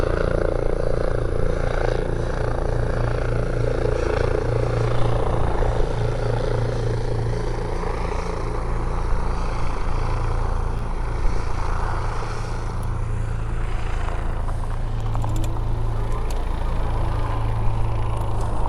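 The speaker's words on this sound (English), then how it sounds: "Let's check out this little helicopter coming here," A helicopter coming in to land: steady rotor thump and engine drone hold throughout at moderate distance, fairly constant with slight swells.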